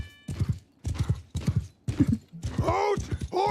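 Horses in a medieval knight battle game clop in quick groups of hoofbeats, close and loud, then a horse whinnies long and high near the end. Shouted voices are mixed in.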